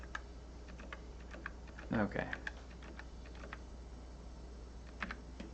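Typing on a computer keyboard, with steady light key clicks and a short louder burst of taps, under a low hum and a brief spoken word.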